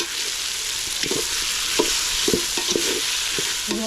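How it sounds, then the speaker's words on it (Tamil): Tomatoes with salt sauté in a pan under a loud, continuous sizzle, while a spoon scrapes and stirs in irregular strokes close by; no one speaks. "சேர்த்து இப்போ நல்லா வதக்கி விட்டுடலாம்"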